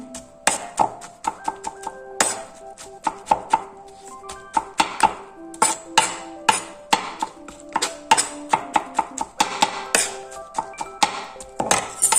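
Zucchini being chopped on a cutting board, a steady run of close, crisp knife strikes in uneven rhythm with brief pauses between bursts.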